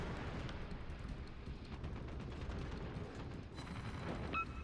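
Naval guns firing in rapid barrages during a World of Warships-style game round with the German cruiser Konigsberg, dense booming blasts overlapping continuously and loud throughout, with a brighter crack near the end.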